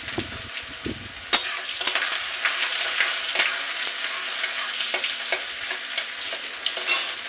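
Onions sizzle in hot mustard oil with cumin, a dense steady crackle broken by repeated sharp spatula taps and scrapes against the pan, close and fairly loud throughout.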